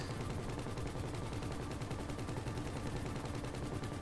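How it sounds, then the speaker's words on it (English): Sustained automatic gunfire in GTA V aimed at a helicopter's tail, a steady rapid rattle of shots running unbroken at moderate, fairly distant loudness. "now she's trying to shoot off the tail"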